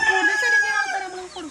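Rooster crowing and hen-like clucking at a Kerala backyard poultry setup, a strained tonal crow drawn out over the whole moment, fairly close and loud, with other fowl calls mixed underneath.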